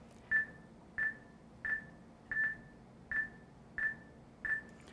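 Seven short electronic beeps from a psychomotor vigilance test response device, evenly spaced at roughly two-thirds of a second with one slightly quicker pair, faint over a quiet room hum.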